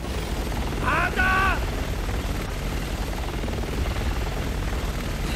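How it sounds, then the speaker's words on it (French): A helicopter in the video game Resident Evil 6 roars as a continuous loud rotor rumble, with a short burst of voices and game sounds near the start. "Cet hélico va bientôt nous tirer dessus!"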